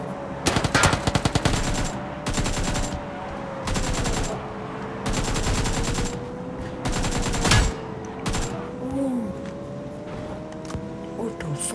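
Rapid automatic gunfire from the mobile battle-royale game New State Mobile rattles off in loud, fast bursts separated by short pauses, over a steady vehicle engine drone, with no talk over it.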